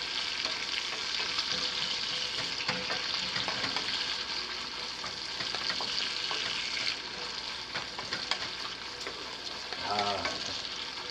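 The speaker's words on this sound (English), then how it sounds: "bacon is crisping up nicely" Bacon crisping in a cast iron skillet, a continuous moderate crackle and spit with scattered pops and a brief scrape near the end, no talking over it.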